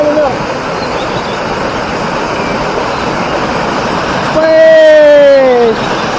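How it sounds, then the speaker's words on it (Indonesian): Waterfall on a trail at Kassi Rindu in Parangloe, Gowa, a steady broadband rush of falling water that fills the whole stretch, with a voice rising over it near the end. "Ini rute baru, air terjun baru."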